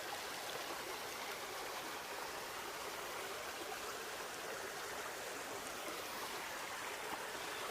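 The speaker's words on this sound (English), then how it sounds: "So I'm out here at the creek" Steady rushing of creek water, a continuous bright hiss of flow with no voices, even and unbroken throughout.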